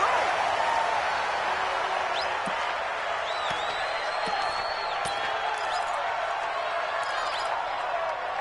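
Simulated stadium crowd noise inside a domed stadium in a PS4 football video game: a continuous broad roar with scattered whistles and whoops, fairly even in level throughout.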